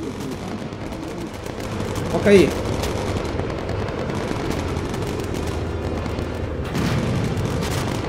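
Machine-gun fire from a bomber in Bomber Crew rattles on in a dense, steady stream under game noise, with a brief louder burst early on and short spoken comments over it.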